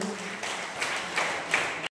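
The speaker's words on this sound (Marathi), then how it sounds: "तर आपण पण जोराने टाळ्या वाजवून प्रभू येशूला धन्यवाद देऊया" Church congregation clapping together in thanks during a prayer gathering, a broad wash of applause rising in a few swells over about two seconds before cutting off abruptly.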